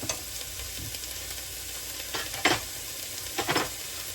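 A heaping teaspoon of garlic frying in a pot for cabbage soup, a soft steady sizzle with a few louder stirring scrapes and clinks of a spoon against the pot near the middle and end.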